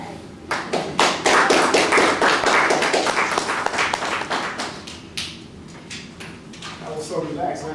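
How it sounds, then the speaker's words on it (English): An audience breaks into a round of applause at a talk, dense clapping swelling quickly, holding strong for several seconds, then thinning out as a few scattered claps fade. "Let's give another round of applause"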